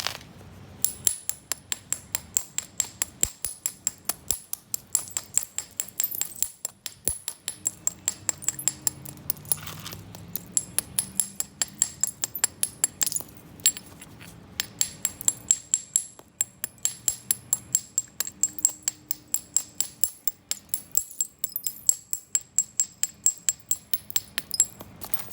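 Rootbeer flint is knapped with repeated sharp, clicking strikes of stone on stone, coming in quick rhythmic bursts with brief pauses between runs, close and fairly quiet.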